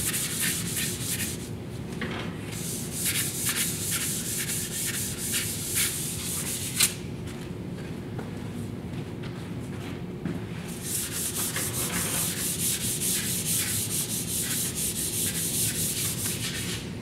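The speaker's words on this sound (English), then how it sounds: "then I just use a little bit of 400 grit" Hand sanding with 400 grit sandpaper while cleaning up a Delta planer and jointer surface after lacquer thinner, steady rhythmic scratchy rubbing strokes, close and continuous with a few short pauses.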